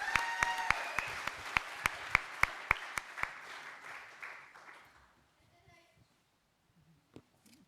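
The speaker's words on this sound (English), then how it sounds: "please give Cadence from Cowgirl Cosmetics a massive round of applause" Audience applause at a national grand final event, a round of clapping with distinct sharp claps over a crowd wash that fades out over about five seconds, followed by near quiet with faint stray sounds.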